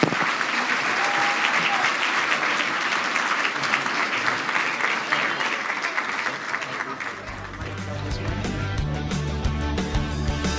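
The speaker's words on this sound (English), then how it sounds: "Jamie, Dino, and Mike, everybody, one more round of applause." A crowd at the Barrie Business Awards 2024 applauds loudly and continuously, dense clapping that carries on until music swells in beneath it near the end.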